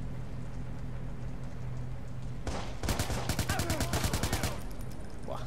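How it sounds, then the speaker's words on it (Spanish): A headshot in the Watch Dogs video game: gunfire breaks in with a sharp burst, then a rapid string of loud, evenly spaced shots over steady background game ambience. "Buah, tiro en la cabeza."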